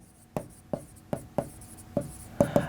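Chalk taps and strokes on a classroom board in sharp, evenly spaced knocks, about seven in quick succession, close and distinct with no talking over them.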